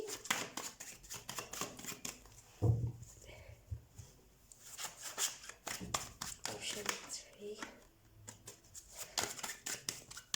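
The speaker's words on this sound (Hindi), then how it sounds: "तो कार्ड शफल कर लेते हैं" A deck of tarot cards is shuffled in quick riffling, flicking bursts, close by and fairly quiet, while someone talks throughout.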